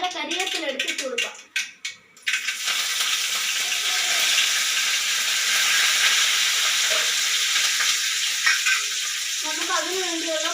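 Mustard seeds pop and curry leaves sizzle in hot oil with a loud, sustained hiss and crackle, bracketed by a voice talking at the start and end.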